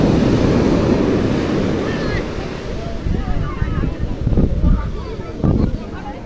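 Sea waves and surf roll in at Puri beach on the Odisha coast, a steady broadband wash with wind buffeting the microphone and swelling surges toward the end, with faint voices of people in the background.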